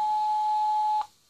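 Dialing tone from a Mobira Nokia Talkman car phone on the Radiocom 2000 cellular system: one steady electronic beep held for about a second, then cut off, leaving faint hiss.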